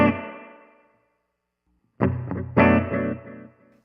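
An electric guitar rings out, then two more strummed chords, each trailing off in a washy reverb tail from a Ventris Dual Reverb pedal that lingers after the notes.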